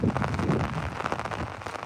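Heavy, cold rain pouring down in a Telangana village near Peddapalli district, a dense, close hiss of drops drumming on surfaces throughout a brief stretch.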